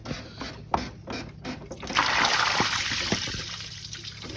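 Coolant water from a Buick Grand National radiator splashes and trickles during a flush, with a few knocks before a steadier gushing pour, heard up close.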